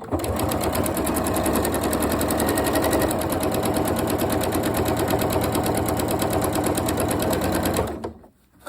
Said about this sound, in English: Now I want you to sew from this side so you can see where you're sewing